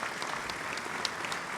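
A crowd applauds at a New Year's wishes ceremony, dense, steady clapping with a few sharper individual claps standing out, moderately loud and without speech.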